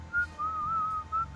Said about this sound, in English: Just a good old-fashioned whistle.